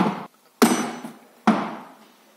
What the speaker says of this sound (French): On se sert ensuite d'un marteau-boule pour écraser chaque extrémité du rivet en laiton.